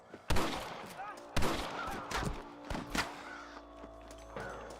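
Sniper gunfire from Red Dead Redemption, a handful of sharp, loud shots cracking out one by one at uneven intervals with faint echoes, while voices shout warnings in between.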